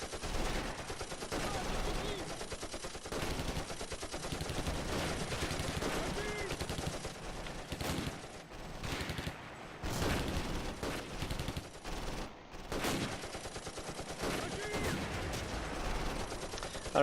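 Gunfire and machine-gun bursts during a Close Combat battle around a town hall near Belgorod: steady, crackling small-arms fire and rattling automatic bursts that go on throughout at a moderate level, with a few brief dips.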